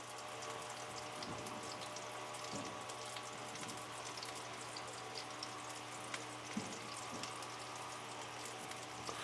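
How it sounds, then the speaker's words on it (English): Saffron broth pours into a cooking pot of onions over a fire, a steady wet liquid flow with faint splashing that runs throughout at moderate, close level. "The broth that you had the saffron in, you're gonna add that broth."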